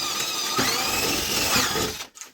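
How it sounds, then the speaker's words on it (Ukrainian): A power drill bores holes into a wardrobe panel, whining steadily at close range, rising in pitch as it bites, then stopping abruptly and followed by a brief clatter. "Так я просвердлю тут, а тоді вставимо полочку"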